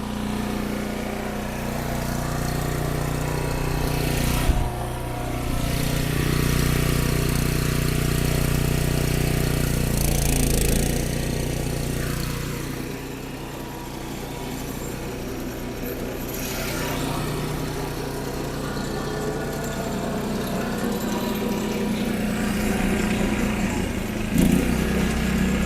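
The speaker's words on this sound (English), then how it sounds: "Yeah, MOTT hammer knife mower." A gas-powered pull-behind MOTT hammer knife brush mower runs steadily with a droning, idling engine hum that holds nearly constant throughout, with a few brief bumps and dips in loudness.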